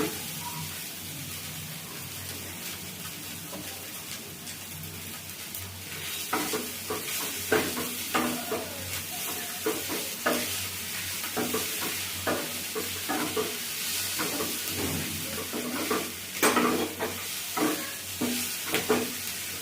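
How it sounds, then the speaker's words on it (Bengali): Bread-coated fish frying in a pan, a steady sizzle with repeated scraping and stirring strokes growing busier partway through. "আমি ব্রেড দিয়ে এই ফিসটা ফ্রাই করছি"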